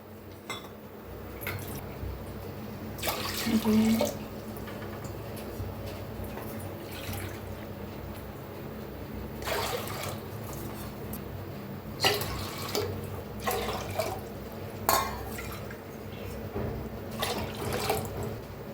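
Water is poured bowl by bowl into a cooking pot holding soaked sago pearls, in several separate splashing pours with quieter pauses between them.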